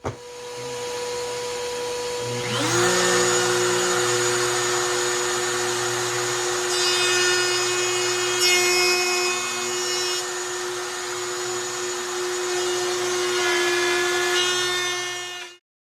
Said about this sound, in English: I'm going to use a jig fixture along with a hand router that's fitted with a straight bit